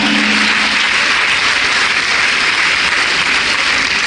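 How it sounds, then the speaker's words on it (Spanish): Church congregation applauding during an Easter Week service, a dense, steady wash of clapping that stays loud and even from start to finish with no talk over it. "Denle un aplauso al Señor"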